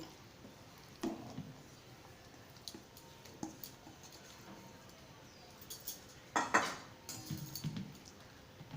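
Spiced lentil paste for dhokar dalna is poured into a pan and spread evenly with a utensil, giving a few soft, scattered clinks and scrapes against a quiet background.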